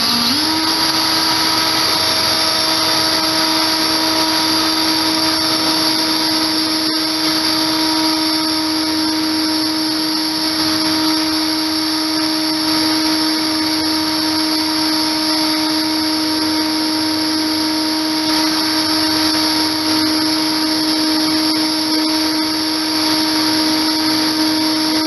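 Steady, high-pitched whine of a rotary tool or polishing motor running nonstop while a metal screw is worked with 600 grit abrasive, loud and close, with a faint scratching texture underneath.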